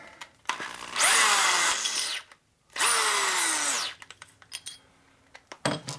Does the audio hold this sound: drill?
yes